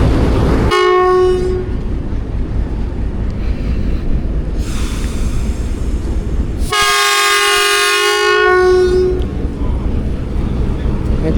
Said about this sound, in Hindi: दोस्तों चनाब नगर पहुंच गई ट्रेन।